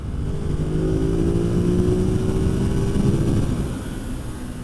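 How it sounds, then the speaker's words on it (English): Ducati Monster motorcycle with its factory exhaust pulling hard through third gear from about 5,500 rpm inside a tunnel, a loud steady rising engine drone echoing off the walls. "Let's see how it is in the tunnel. It's got this factory exhaust on it"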